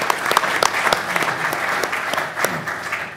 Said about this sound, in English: How about a quick round of applause for the Future Framer panel?